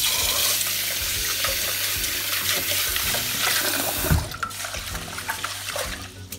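Rice being rinsed by hand under a running tap in a home kitchen sink for Japanese sushi rice, a steady loud rush of water with splashing and swishing, close and without talk.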